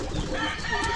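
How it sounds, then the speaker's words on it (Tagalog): Pet chickens cluck and chatter together nearby in a brief dense burst, several birds overlapping against outdoor ambience, with no one speaking. "Saka yung alaga natin mga manok."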